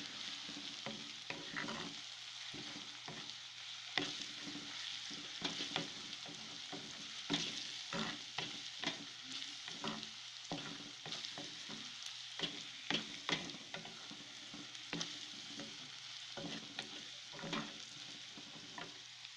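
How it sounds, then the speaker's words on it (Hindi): Garlic and ginger paste frying with golden onions in a pan, a steady close sizzle broken by frequent scraping stir strokes throughout, with no talking. "लहसुन और अदरक के पेस्ट को थोड़ा सा भूनेंगे।"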